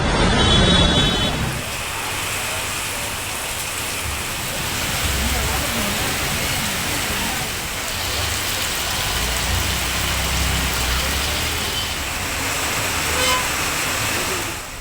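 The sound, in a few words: moderate rain in Chennai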